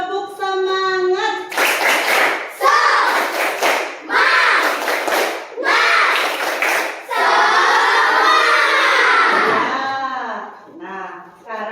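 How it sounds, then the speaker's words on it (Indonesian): Schoolchildren in a classroom perform a rhythmic spirit clap, bursts of unison hand claps in patterned groups alternating with the children chanting together, loud and close. "nanti coba anak-anak tepuk semangat dulu"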